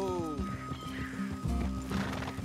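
Horse in Red Dead Redemption 2 gives a loud descending whinny at the start, followed by hoof clip-clop and game ambience, with a voice talking briefly underneath.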